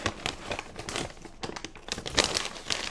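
Brown paper wrappings being unfolded and pulled off items during a fall subscription box unboxing, giving repeated close crinkling and rustling bursts with no speech.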